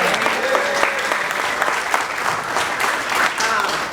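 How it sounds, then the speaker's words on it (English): A crowd applauds steadily and fairly loudly at a domestic violence awareness gathering, with scattered voices and cheers mixed into the clapping throughout. "So let's give Amy a big round of applause."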